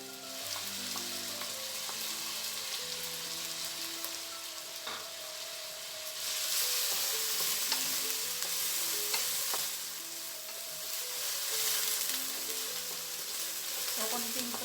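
Potatoes frying in a pan that was just used for corned beef, a continuous crackling sizzle with occasional stirring scrapes, growing louder and brighter partway through.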